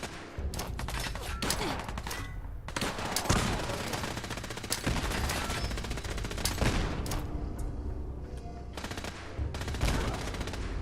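Plasma rifle firing in Fallout 4: rapid repeated energy shots and bursts dominate throughout, loud and close, with explosive impacts mixed in and occasional talk underneath.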